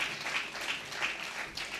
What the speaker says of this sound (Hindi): मैं चाहता हूँ ज़ोरदार तालियों से स्वागत श्री रविंद्र किशोर सिन्हा साहब का किया जाए प्लीज़।